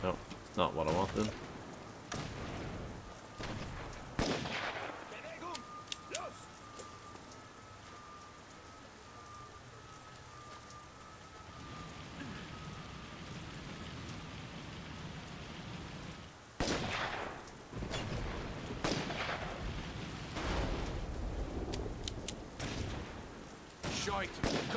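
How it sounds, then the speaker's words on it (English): Gunfire in the video game The Saboteur crackles in sporadic sharp bursts over a noisy background, with a long lull in the middle before the shots pick up again. "Gunfire! There is indeed gunfire."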